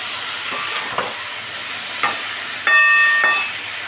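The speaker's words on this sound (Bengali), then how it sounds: "দেখো বন্ধুরা, এটা কিন্তু ভালো করে ফুটতে শুরু হয়েছে।" Spiced teasel gourd curry with potato, seasoned with chilli and cumin powder, sizzles steadily in a pan, with a few soft stirring scrapes and a brief hissing burst near the end.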